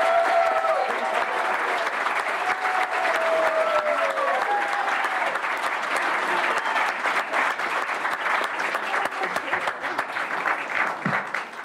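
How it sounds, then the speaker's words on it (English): A crowd at a county commissioner candidate forum claps and cheers loudly and steadily for candidates, with dense applause sustained throughout and a few whoops rising above it. "take this time and clap and hoop and holler for your favorite candidate"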